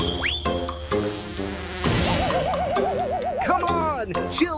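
Cartoon mosquito buzzing in an animated Incredibox Sprunki music scene, a warbling, wavering whine that rises and dips over layered synthetic musical tones and beats.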